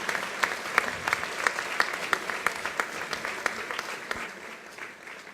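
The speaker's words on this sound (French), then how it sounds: "je vous prie d'applaudir" An audience at a conference presentation applauds warmly, a dense, even clatter of many hands with a few sharp claps standing out, tapering slightly toward the end.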